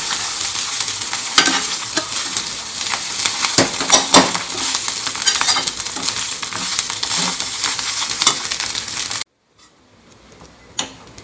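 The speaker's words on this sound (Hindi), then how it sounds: "थोड़ी देर इसको ऐसे ही फ्राई करेंगे" Cooked rice is mixed and fried in a pan for egg fried rice, with steady sizzling and repeated scraping, clacking spatula strokes against the pan, ending abruptly into near silence with one last faint knock.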